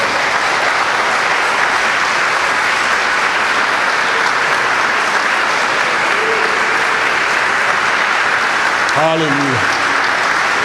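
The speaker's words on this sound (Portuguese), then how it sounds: "dê um aplauso ao Senhor" Church congregation applauding steadily and loudly throughout a men's congress service at a Congregational church, with a voice calling out in praise near the end.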